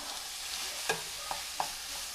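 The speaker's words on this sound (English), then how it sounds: "So we take a pound of ground beef and hear that sizzle?" Quiet, steady sizzling of ground beef in a pan, with three light clicks of a utensil against it.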